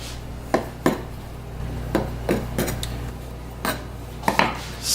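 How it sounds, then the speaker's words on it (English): A small utility knife trims excess crust around a chicken pot pie, making a handful of sharp, scattered clicks and taps against the dish over a quiet, steady background. "then you'll get a knife and then you'll cut around"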